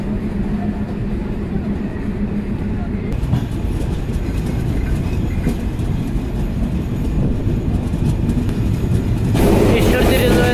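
The Kapotaksha Express, an intercity train just out of Ishwardi Junction, rumbles steadily with constant wheel and carriage noise from inside, growing louder and brighter near the end.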